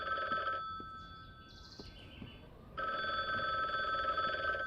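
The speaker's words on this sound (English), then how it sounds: "Man, that phone's loud and annoying." A telephone rings loudly in the video game The Bookwalker: Thief of Tales, two electronic bell bursts separated by a short pause, close and shrill with no speech over them.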